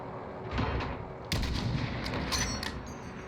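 Heavy machine gun fire rattles in the shooter game Warzone, loud sustained bursts layered with other gunshots and booms in a trio match, with no talking.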